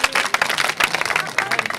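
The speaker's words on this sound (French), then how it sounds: "On applaudit très fort pour le pic du Mindif." A short burst of audience clapping, many hands at once, fairly close and lively, with a voice faintly mixed in, at a school event in Maroua, Cameroon.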